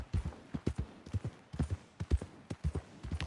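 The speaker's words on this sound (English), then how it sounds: "they definitely got the horses pretty good in this game" Horse hooves clip-clopping in the open-world western video game Red Dead Redemption, a steady close galloping rhythm of repeated hoof beats in quick groups, with no talking.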